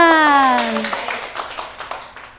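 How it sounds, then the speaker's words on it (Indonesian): A classroom of students clapping for a group presentation, quick overlapping hand claps at moderate distance that follow a voice with a falling tone and go on steadily to the end. "Tepuk tangan."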